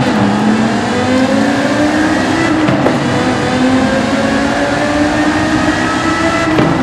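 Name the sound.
V10 sports car exhaust, video game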